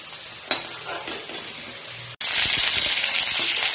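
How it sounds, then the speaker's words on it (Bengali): Steamed cauliflower florets fried in hot oil for a Bengali fish curry with potatoes, a close steady sizzle with stirring scrapes, then a sudden louder burst of frying partway through. "এই যে ভাপানো ফুলকপিগুলো দিয়ে একটু ভালো করে ভেজে নিচ্ছি"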